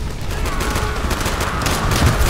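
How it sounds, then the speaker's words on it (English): Sustained machine gun fire from an MG emplacement in the Call of Duty: World at War campaign, dense rapid bursts mixed with other gunfire, loud and continuous throughout. "they got an MG up there"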